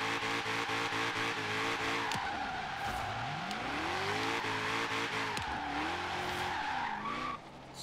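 A 1932 Ford drifts in Forza Horizon 3, its engine rising and falling in second gear under sustained tyre squeal, loud and continuous with swooping pitch shifts before briefly easing off at the end.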